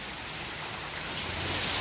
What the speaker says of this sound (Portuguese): agora tá chovendo de novo, ó.